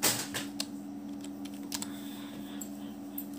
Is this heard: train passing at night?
no